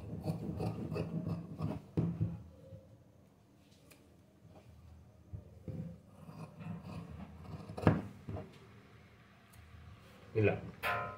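Scissors cutting boat-neck blouse fabric by hand, a few close rasping snips and rubbing sounds with some sharper clicks, under low background noise and occasional talk.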